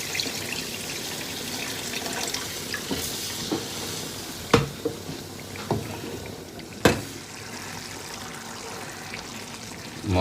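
Water is stirred into urad lentils cooking in a pan: a low bubbling, sloshing simmer with a few sharp spoon knocks against the pot, close and moderately quiet, with no talking.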